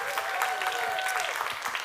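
A church congregation applauding, a dense steady patter of clapping hands under a voice speaking and a sustained tone over it.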